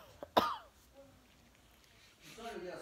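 A woman coughs indoors, one sharp close cough followed by a few softer coughs and throat noises, then a quiet murmur of a voice toward the end.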